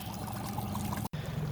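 Water gushing into a fishing boat through an open drain plug hole on a shallow trout river, a steady close pouring rush with a brief cutout near the end, no talk.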